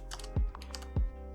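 Keys tapped on a computer keyboard, a few distinct clacks spaced about half a second apart, close and clear over a faint background hum.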